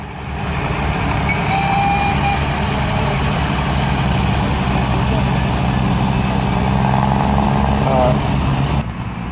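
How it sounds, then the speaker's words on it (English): A Mack heavy haulage truck from a specialist west of Scotland firm passes at a heavy haulage show, its deep engine rumble loud and steady throughout, with a faint beeping and other vehicle noise around it. "Another Mack coming round, west of Scotland, again another company that specialises in heavy haulage up there in Scotland."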